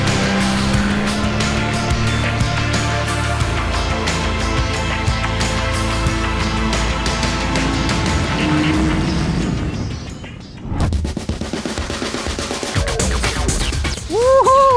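Honda motorcycle at high speed leaning hard into corners, a loud continuous high-revving engine whine with shifting pitch, then a brief dip and a rougher revving passage toward the end.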